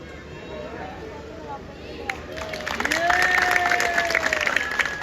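Applause from the audience at a Ram Leela stage performance in Saharanpur, rising from scattered claps into a fuller burst of clapping under tonal background sound and crowd noise.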